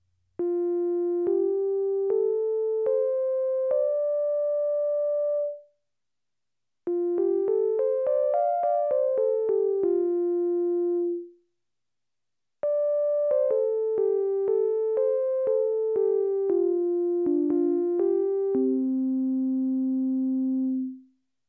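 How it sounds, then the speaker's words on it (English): A recreated prehistoric bone flute made from a griffon vulture wing bone, after the Hohle Fels find, plays pure, clean tones in three separate runs of stepping notes up and down a five-note pentatonic scale, each run ending on a held note. "One such recreation found that the flute could play a pentatonic scale, a five-note pattern that some music still uses today"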